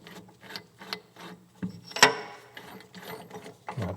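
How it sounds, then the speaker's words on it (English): A ratchet clicks in short bursts as it works a big nut loose on a steam stoker engine under restoration, with rhythmic pawl clicks, one sharper metallic snap near the middle, and no talking. "this big nut back here, and that should allow me to kind of undo this"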